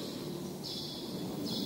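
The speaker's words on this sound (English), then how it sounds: "you can hear the birds chirping up in the rafters" Small birds chirp faintly in two high, thin bursts up in the rafters of Boljoon Church in Cebu, Philippines, over a steady background hum, distant and slightly echoing.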